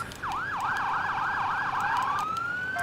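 A fire company rescue pickup's electronic siren wails in rapid repeated up-down sweeps, close and loud, then switches to a single rising tone near the end.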